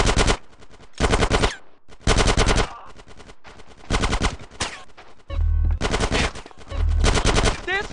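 Automatic gunfire in GTA San Andreas, long loud bursts of machine gun fire with short pauses between, and heavy booming hits near the end.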